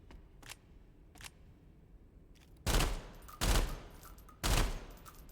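A 7.62 rifle firing in a video game: faint clicks at first, then three loud, separate bursts of gunfire about a second apart, each a short roaring blast.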